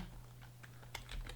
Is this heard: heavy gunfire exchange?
no